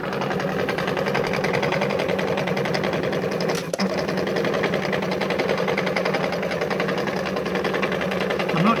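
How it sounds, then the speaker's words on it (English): A Robocraft plotter runs steadily, its carrier marching up and down as it cuts pink tapes on Solatex photo mount, giving a continuous close mechanical whir with a brief dip midway. "it's marching up and down this carrier with some Solatex photo mounted onto it, and it's cutting pink tapes"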